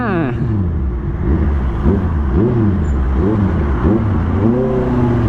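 A Yamaha Xmax scooter ridden fast, its engine close and loud, repeatedly revving up and easing off in sweeping pitch rises and falls over a steady rush of road and wind noise.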